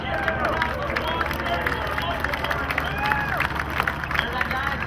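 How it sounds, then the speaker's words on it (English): An outdoor air show crowd cheers and claps as a KC-135R Stratotanker passes overhead, a steady dense hubbub with scattered whoops and applause and no distinct voice standing out. "Give it a round of applause."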